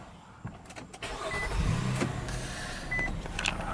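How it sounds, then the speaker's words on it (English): An Infiniti car's push-to-start engine cranks and fires, a short mechanical whir followed by a low, fairly quiet engine rumble settling into idle inside the cabin. "So let me start it up."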